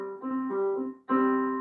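Two tones sound together a perfect fourth apart (3 to 4 ratio), a sustained harmonic dyad struck twice with a brief gap, clear and steady with no talking.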